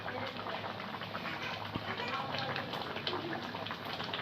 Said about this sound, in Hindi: देखें अभी ये पक रहा है हमारा सालन।